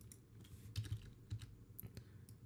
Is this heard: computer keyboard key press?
yes